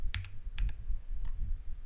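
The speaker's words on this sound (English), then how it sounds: "just press the up key on your keyboard" Several crisp, separate clicks of the up arrow key on a computer keyboard, pressed in small pairs and singles at close range, with a faint room hum underneath.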